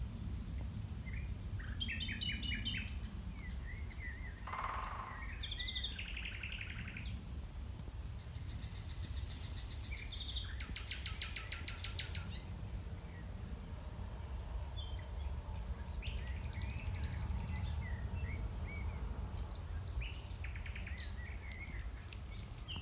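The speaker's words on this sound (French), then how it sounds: "vous allez entendre, il y a même un pivert, les oiseaux," Evening nature ambience at sunset on the Compostela trail between Conques and Toulouse, with scattered bird calls and chirps over a constant bed of insect and cricket noise, plus brief bursts of rapid tapping that fit a woodpecker, all fairly distant and soft.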